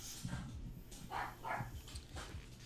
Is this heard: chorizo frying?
no